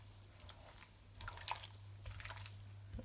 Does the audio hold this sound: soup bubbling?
yes